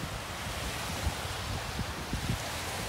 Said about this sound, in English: And now, this is the Indian Ocean.